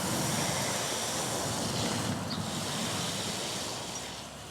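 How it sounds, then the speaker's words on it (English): A steady, broad hiss of water spraying over a garden bed, fairly close and even throughout, easing off slightly at the end. "Just to give it a little water now"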